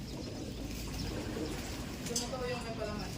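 Breeder pigeons cooing softly as they feed, low murmuring coos close by over a steady background hum, with a person talking nearby.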